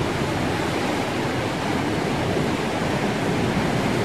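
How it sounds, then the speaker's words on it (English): Wind-driven surf and waves on the coast of São Miguel in the Azores roar as a loud, unbroken wash of broadband noise, steady and close, with no voices. "The surf is up"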